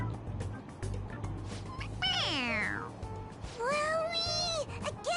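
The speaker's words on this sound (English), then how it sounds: "It meows when you press on its head." A toy cat in Persona 5 Royal lets out two electronic meows when its head is pressed, each a rising-falling wail, loud and close over game background noise and soft chatter.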